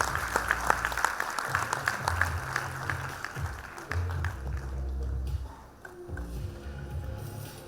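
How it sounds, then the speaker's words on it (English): Applause at a university graduation ceremony, a steady patter of clapping from a crowd in a hall that thins and fades toward the end. "A better round of applause."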